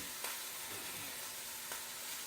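Meat sears in a hot dish with a steady, soft, even sizzle, fairly quiet and unbroken, marked by two faint clicks.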